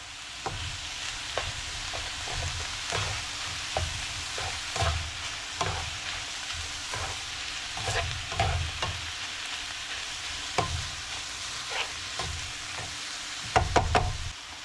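A spoon stirs orzo turkey stroganoff with Worcestershire in a single pot, a constant close sizzle broken by scraping and light knocks against the pot, with no talking.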